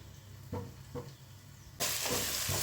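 Mushroom masala with ginger garlic paste cooking in a pan, with soft stirring scrapes and a steady frying sizzle that jumps much louder partway through and stays loud to the end.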